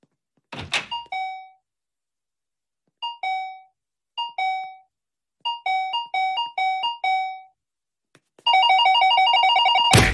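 A doorbell in an animated comedy scene rings in short ding-dong bursts, several separated presses followed by a sustained, rapidly repeated ringing at the end, clear and close against silence.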